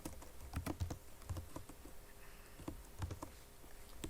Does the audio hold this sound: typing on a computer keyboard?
yes